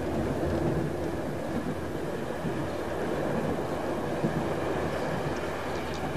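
A train rolls past steadily at close range on an early railway line, its broad continuous rumble and rattle holding level throughout with no talk over it.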